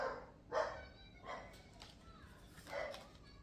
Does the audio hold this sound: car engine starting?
no